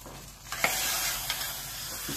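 Turmeric is stirred into pongal in a pan, a continuous close hiss of cooking with a few soft spoon scrapes spaced through it.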